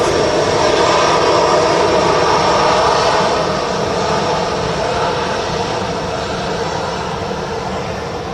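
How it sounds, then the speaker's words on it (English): A Saudia Boeing 787-10 Dreamliner at Manchester Airport gives a loud, steady jet engine roar with a broad rumble and a high whine, easing slightly toward the end. "That's a Dash 10 Dreamliner with Saudia."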